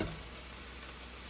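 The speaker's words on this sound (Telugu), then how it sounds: "ఒకవైపు ఇది ఫ్రై అవుతూ ఉంటుంది" Egg curry with dried prawns frying in a pan, a faint, steady sizzle that hisses evenly throughout with no talking.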